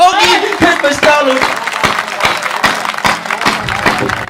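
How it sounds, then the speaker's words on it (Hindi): An audience at a Hindi poetry recital claps in an even rhythm while a voice carries over the opening moments, and the clapping continues steadily after he stops. "एक बार दोनों हाथ उठाकर तालियों के साथ एक बार"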